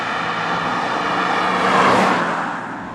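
A BMW E34 525i driving, with a steady broadband engine and road roar that swells briefly mid-run before easing off, heard from inside the car with no talk.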